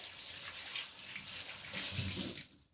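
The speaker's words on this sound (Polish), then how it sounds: "Spłukujemy wodą" Running tap water rinses soap from hands at a sink, a steady broadband splash that grows louder near the end and then cuts off as the flow stops.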